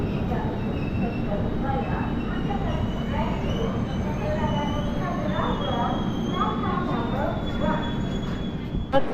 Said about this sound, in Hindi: हमारी ट्रेन होसपेटे जंक्शन में अराइवल ले रही है